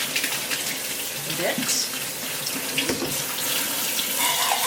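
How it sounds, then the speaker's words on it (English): Cold water from a kitchen tap running steadily over canned beans in a strainer, a close continuous splash and patter, with a voice speaking briefly over it. "using cold water, you want to just rinse them off"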